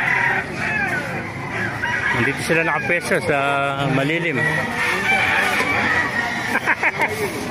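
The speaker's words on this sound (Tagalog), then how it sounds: "Mapakita ko sa inyo mga manok dito sa Baliwag" Roosters crow loudly with a long drawn-out call in the middle, while hens cluck around it and someone speaks briefly over the flock at a market in Baliuag.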